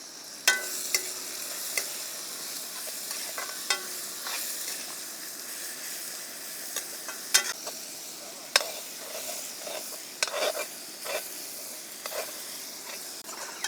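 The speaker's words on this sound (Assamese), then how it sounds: "এতিয়া মছলাখিনি আমি ভাজি ল'ম।" Ground coriander and cumin fry in a pan, a soft continuous sizzle broken by repeated scrapes and clicks of stirring, fairly close and without talk.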